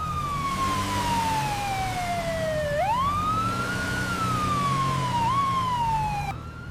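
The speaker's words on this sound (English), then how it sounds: "Look at the ambulance!" A loud ambulance siren wails close by in heavy rain, its pitch gliding down and then rising again in slow sweeps over a low rumble of traffic, with no talking.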